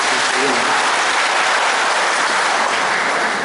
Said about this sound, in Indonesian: Kita memberikan aplaus untuk saya.